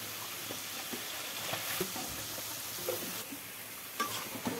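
Sliced eggplant and potato frying with dried fish in a pan: a steady, loud sizzle with faint clicks and stirring scrapes throughout.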